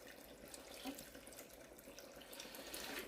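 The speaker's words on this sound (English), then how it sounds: "I am adding hot water, not cold water" Hot tap water runs steadily into a pot being filled for water-bath canning of tomatoes, a soft continuous rush and splash at moderate distance with no talking.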